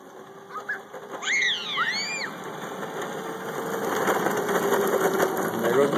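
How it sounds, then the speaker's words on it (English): A child's go-kart engine buzzes on a warm evening, a steady rattling small-engine drone that swells louder toward the end, with excited voices and a squeal over it early on. "riding her go-kart"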